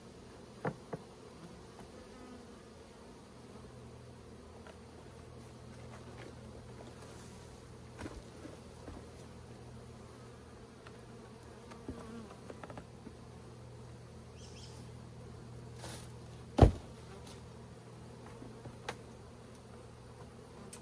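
Honeybees buzz in a steady, low drone from open hives during a honey harvest, and the hives are infested with wax moth and small hive beetle larvae. A few sharp knocks and clicks of hive equipment sound over the drone.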